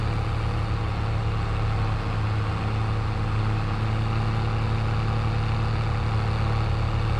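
A large tractor in the Farming Simulator 22 video game idles with a steady, continuous low engine drone, alone and unchanging throughout.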